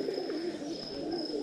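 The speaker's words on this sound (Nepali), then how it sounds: "परेवाहरू यहाँ मनोकामना मन्दिरमा" At dawn outside Manakamana Temple in Gorkha, Nepal, a flock of pigeons coos without pause while feeding on rice and maize. The murmuring calls are close, soft and layered, with no voices over them.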